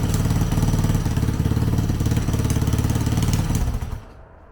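A rebuilt 2000 Honda XR200R dirt bike engine idles loudly and close with a steady, fast chugging rhythm, then cuts off and falls quiet near the end.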